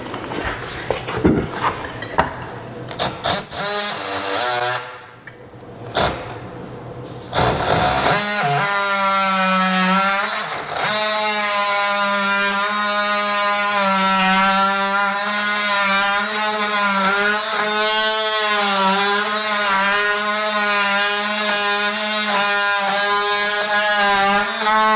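Cordless oscillating multi-tool fitted with a Diablo blade notches out a section of wood, a loud, steady high-pitched buzzing that runs continuously after some brief scraping and handling noises at the start.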